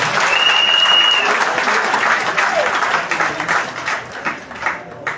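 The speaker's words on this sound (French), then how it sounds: "Il faut applaudir Gbagbo Laurent qui va nous accueillir à Dabo" Loud, dense applause from a large crowd at a political rally in Yopougon, Côte d'Ivoire, sustained and then thinning into scattered claps as it fades out.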